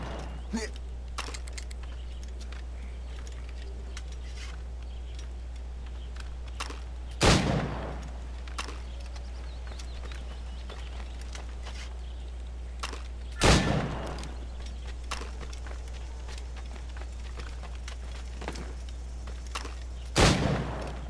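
Three loud, isolated gunshots spaced several seconds apart in the video game Assassin's Creed Rogue, each a sharp blast, over a low steady hum and faint background noise.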